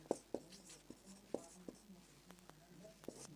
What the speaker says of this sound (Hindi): और देखिए लिख देते हैं